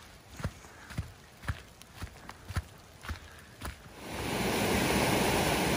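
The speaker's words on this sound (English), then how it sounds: "Really, there's little rapids on the creek." Footsteps crunch along a rugged bush track, then small creek rapids at the Burranula Cascades take over as a close, steady rush of water that fills the last couple of seconds.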